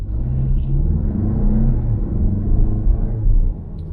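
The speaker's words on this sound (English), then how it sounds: "Does it do well in taking off from a stop sign?" A car with a modest-sized engine pulls away from a stop, its low rumbling engine note building steadily and staying close and loud for several seconds.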